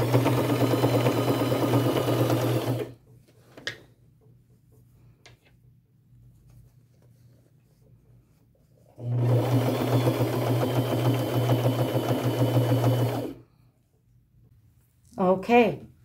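A sewing machine topstitches along the edge of a backpack made from upcycled materials, running in two long, steady whirring bursts separated by a pause, with a low constant hum underneath.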